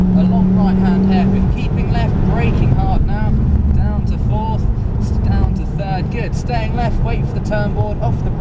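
A Ford Focus RS accelerates hard on a circuit, its engine note rising in repeated pitch sweeps through the gears, loud and close, with someone talking over it most of the time.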